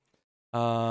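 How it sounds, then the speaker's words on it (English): After a near-silent moment, a dense buzzing granular-synthesizer tone suddenly starts and holds steady, loud and close, cut short after under half a second. "I can show you a cool sound which I made with a granulaser."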